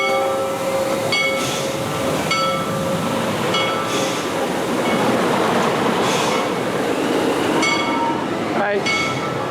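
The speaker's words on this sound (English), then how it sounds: "Second ride on Mystic Timbers, pretty much the same thing." A Mystic Timbers roller coaster ride at Kings Island: steady, loud rumbling rattle of the cars on track, continuous throughout with brief sharper clanks and squeals along the way.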